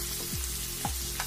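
Chopped onions frying in a pan for a water chestnut curry, a steady close sizzle carrying a couple of brief higher scrapes, with no voices.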